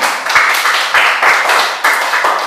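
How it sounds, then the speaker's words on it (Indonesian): Classroom audience claps for the third presentation group, a loud close burst of many hands in a quick uneven rhythm, briefly dipping and resuming, with no talking. "Beri tepuk tangan pada kelompok ketiga"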